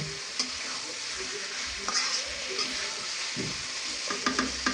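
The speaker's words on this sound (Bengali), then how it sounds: "এখন এর মধ্যে আগে থেকে ভেজে রাখা চিকেন এবং আলুগুলো ঢেলে দিলাম আর এখন এভাবে করেই কিছুক্ষণ কষে নিতে হবে" Pre-fried chicken and potatoes are stirred and fried in masala, with a steady sizzle under repeated spatula scrapes and clinks against the pan.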